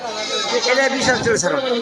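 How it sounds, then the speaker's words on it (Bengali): A goat of about twenty kilograms bleats at a busy livestock market, its wavering cries rising close and loud over talk and crowd murmur. "এই বিশ কেজি ওজনের এই ছাগলটা"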